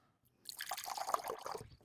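Coconut water pours into a cup at close range, a short trickling, dripping stream of liquid lasting about a second and a half after a brief quiet start.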